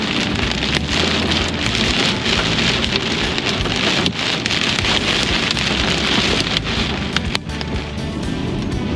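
Heavy rain pounds steadily on a car during a road trip from Delhi to Ladakh, a dense, continuous drumming roar close around the cabin with no speech.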